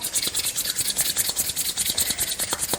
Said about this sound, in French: on frotte, on frotte, on frotte, on sent la chaleur qui se crée par le frottement